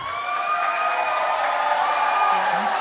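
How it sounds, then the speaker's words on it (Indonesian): Audience applause at a regional election debate in Tebing Tinggi, honoring the three candidate pairs: steady, dense clapping that holds evenly throughout, with a faint tone sounding briefly near the end. "Kita berikan tepuk tangan yang meriah kepada ketiga pasangan calon kita."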